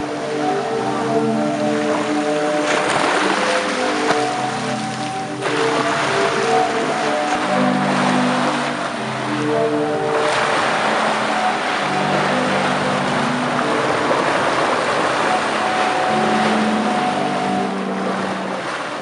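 A seaside sea organ, its pipes driven by ocean waves, sounds overlapping sustained chords that come and go at random, with wave rush and wind noise underneath, loud and steady throughout.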